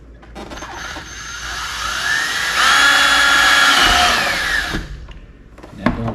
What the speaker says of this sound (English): let's go ahead and drill holes using the crosshairs that Honda provided